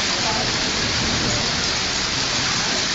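Rain falls steadily, making an even, dense hiss that continues without a break from start to finish.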